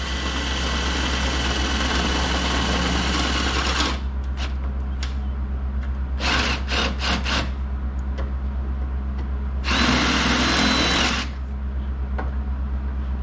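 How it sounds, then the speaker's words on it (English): A power drill bores through the metal layer of a car rocker panel: a steady high whir for about four seconds, then short bursts at the sixth and seventh seconds, and a final run near the tenth, all over a constant low hum. "You drill down 1 layer."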